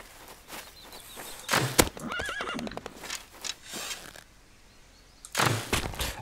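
A horse in the video game Rust whinnies loudly with a wavering, rising call, surrounded by hoof clatter and thuds, then another burst of hooves near the end.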